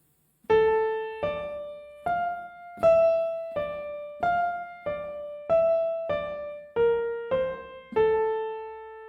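Part of a theme played slowly on piano, eleven separate clear notes in a steady rhythm, each decaying before the next, close and alone.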